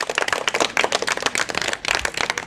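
Students in a village school classroom applauding their teacher, a loud, dense burst of clapping from many hands close by, steady for a couple of seconds.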